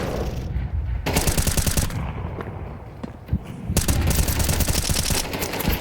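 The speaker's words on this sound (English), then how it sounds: "Good shooting outside from Bro." Rapid automatic gunfire from Counter-Strike 2 at a competitive esports match, dense loud bursts of shots with short pauses between volleys, no talk over it.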